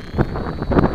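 Outdoors on a windy day flying an FY326 quadcopter, wind batters the microphone in a brief burst of low rumbling thumps, loud and close.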